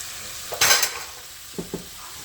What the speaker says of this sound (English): Now I'm going to add in the lentils, and I left some of the liquid so it's a little bit runny, but it does cook down.